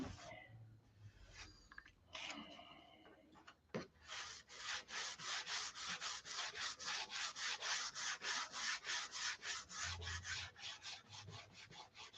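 Steady rhythmic rasping of sandpaper rubbing a wood top coat, close and fairly loud, settling into even back-and-forth strokes after some quieter handling noises at the start.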